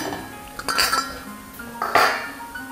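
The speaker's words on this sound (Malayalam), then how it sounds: "അതിന് ഞാനൊരു പാത്രം അടുപ്പത്ത് വെച്ച്" A cooking pot is set onto a kitchen stove while fried rice is being prepared, giving two distinct metallic clanks, one near the start and a louder one toward the end, with faint background hum between.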